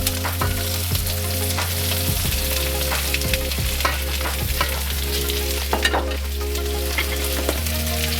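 Vegetables frying in a wok with chicken, a loud continuous sizzle broken by repeated stirring scrapes and knocks of a utensil, over a low musical drone.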